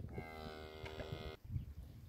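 Cows lowing beside a newborn calf on a farm pasture, a single sustained moo with harmonic tone for over a second, fairly close and moderately loud, then stopping abruptly into quiet outdoor background.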